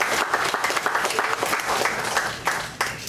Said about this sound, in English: Yeah, go ahead, clap for Family Kitchen.